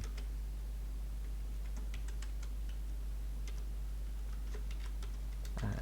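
Someone types on a computer keyboard, producing faint, irregular clicks of light keystrokes in short bursts over a steady low hum in a quiet room.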